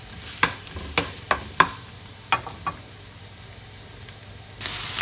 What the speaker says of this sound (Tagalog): Gisa po muna natin ang bawang hanggang sa mag-golden brown.